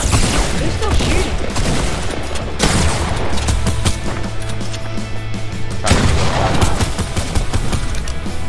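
Dense gunfire in the Fortnite video game, loud overlapping shots and rapid bursts filling the whole stretch with a few heavier crashing hits, steady and close with no pauses.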